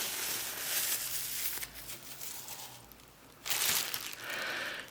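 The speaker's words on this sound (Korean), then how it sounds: "저는 이런 비닐봉투를 깔고 해보겠습니다" Thin plastic bag crinkling and rustling as it is spread flat on a table, soft close handling noises in a quiet room.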